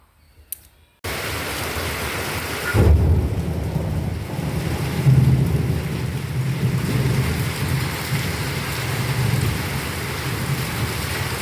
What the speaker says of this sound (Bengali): বাইরে বৃষ্টি আর আমি রান্না করছি